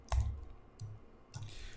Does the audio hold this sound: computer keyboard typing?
yes